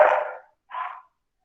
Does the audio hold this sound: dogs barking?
yes